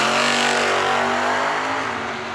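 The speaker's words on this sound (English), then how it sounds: "we're gonna unleash Jeff Doster's big block, B-bodied Mopar" Big block B-body Mopar drag car launching at US 13 Dragway, a loud, close engine roar with steady harmonic drone that shifts slightly as it pulls away.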